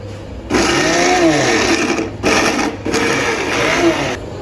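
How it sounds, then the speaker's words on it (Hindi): An electric grinder grinding ginger whirs loudly in three bursts, a long run, a short pulse, then another long run, with a motor whine. "अदरक पीस रहा है"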